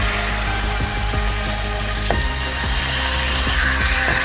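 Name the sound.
chicken added to frying spice masala and stirred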